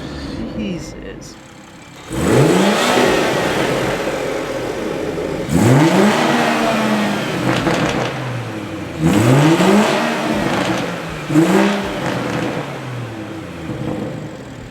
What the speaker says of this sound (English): This exhaust is definitely breaking in and getting louder and louder, but it sounds sick, dude.